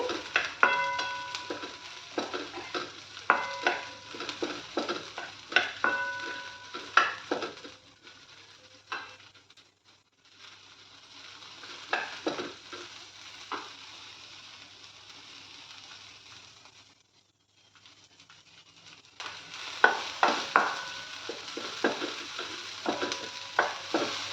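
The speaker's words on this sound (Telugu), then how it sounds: "బాగా మంచిగా వేగాలండి." Coriander chutney ingredients such as green chillies fry in a pan, a soft steady sizzle broken by repeated scraping and stirring knocks, close and moderately quiet, with no talking.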